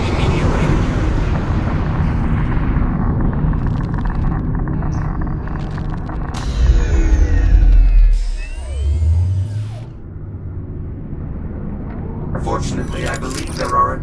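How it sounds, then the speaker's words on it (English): A torpedo launches in the game Lone Echo 2 with a deep, swelling roar and whooshing sweeps that rise over steady ambient noise, then ease back down. "Jack, it's launching. Get clear of the torpedo immediately."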